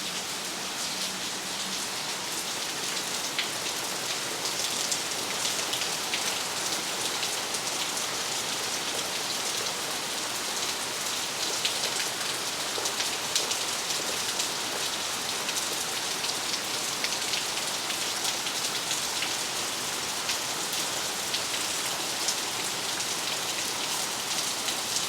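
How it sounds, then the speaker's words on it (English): A sudden storm with rain and hail pours down outdoors, a dense continuous hiss of drops striking surfaces that stays steady and loud throughout, with no talk. "So it just started storming out of nowhere and hailing."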